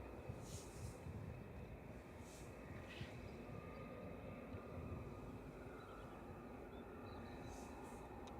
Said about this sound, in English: But in now, though, is SAJJ for Logan Air with Flight 21 from Aberdeen